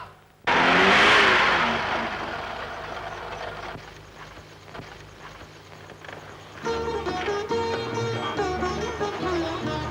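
A taxi car engine revs up loudly in an old film scene, a surging roar that fades into a lower running drone before music swells over it.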